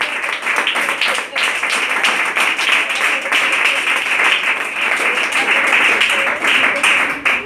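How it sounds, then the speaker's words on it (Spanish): A church congregation gives loud, sustained applause during a worship service. Dense clapping fills the room for the full stretch and runs without a break. "Denle un aplauso al que vive, aleluya."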